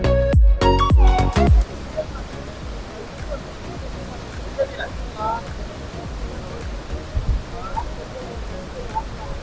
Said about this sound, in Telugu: చూస్తున్నారు కదా వాటర్ అసలు ఎంత ఫ్లో ఎట్లా వస్తుందో